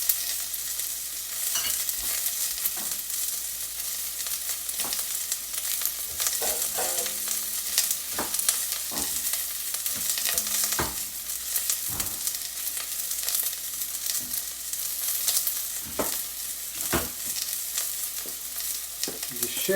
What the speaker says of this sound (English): I'm gonna throw my shallot. I want my pan to be hot.